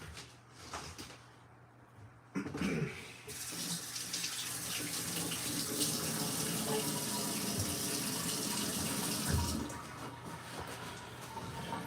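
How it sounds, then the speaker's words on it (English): Tap water runs steadily into a kitchen sink while potatoes are rinsed for breakfast, a continuous splashing flow that starts after a brief quieter moment and holds strong for most of the stretch before easing slightly near the end. "Let me wash off these potatoes."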